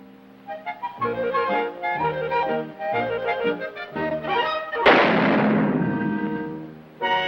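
A cartoon gunshot in a Woody Woodpecker falconry short: one sharp, loud blast with a long ringing decay, cutting across a busy brassy orchestral score that plays before it.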